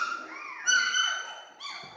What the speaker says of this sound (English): So she was whining a little bit.